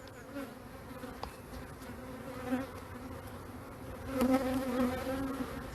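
Agitated honeybees swarm around an opened hive at an apiary, a dense, continuous buzzing that swells louder in waves as more bees fly close.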